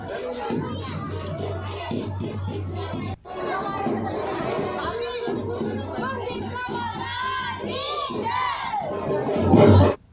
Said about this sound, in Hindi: आज सुबह से ही शीतला माता के मंदिरों में महिलाओं की भारी भीड़ यहां पर देखने को मिल रही है।